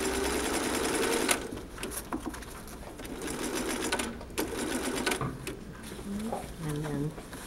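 A sewing machine runs in continuous rapid stitching, attaching a collar to a neckline, moderately loud and close, with a few softer clicks and a faint voice toward the end.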